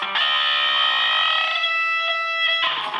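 A sustained, distorted electric guitar chord rings out for a few seconds with a two-string bend, the pitch bending, clipped and buzzing, then cuts off abruptly near the end.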